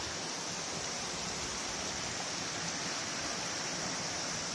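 The Millomeris waterfall in the Troodos mountains of Cyprus gives off a steady, broad hiss of falling water, even and unbroken, heard at a moderate distance with no voices.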